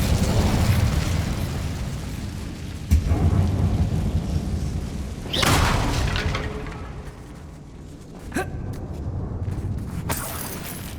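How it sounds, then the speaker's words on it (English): A fire spell cast in Hogwarts Legacy, heard as loud booming, rumbling blasts with sharp crackling bursts over a continuous roaring wash, no talking. "Incendio."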